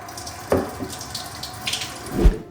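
Water runs from an OEMIRY countertop filtration system into a glass: a soft, steady trickle and splash, with a few louder spatters and gurgles near the end.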